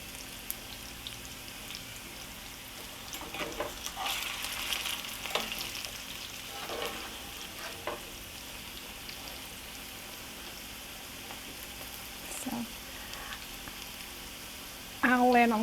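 Smoked sausage and potatoes fry in a pot with a soft, steady sizzle and crackle, broken by a few clattering scrapes as the food is turned, ending in a louder clatter; no one talks.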